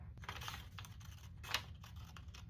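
Quiet, close snipping and paper rustling as scissors cut out a zipper fly sewing pattern in short irregular strokes.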